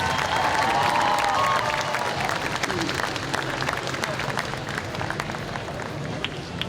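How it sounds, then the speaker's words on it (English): A Comic Con crowd in Sydney gives steady, loud applause for cosplayers and judges, sustained clapping with some cheering that fades slightly toward the end. "can I get a big round of applause, not only for our judges, but our wonderful cosplayers?"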